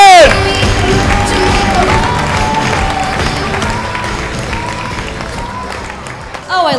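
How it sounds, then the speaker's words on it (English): An audience at a comedy class show gives a loud, sustained round of applause with cheering and whoops as comedian Robyn Marin takes the stage, the crowd noise tapering near the end. "big round of applause for Robyn Marin"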